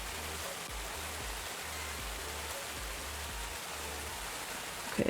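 Waterfalls in the Obduction video game pour in a steady broadband rush of falling water, constant and enveloping, with a faint low pulsing beneath and no voices.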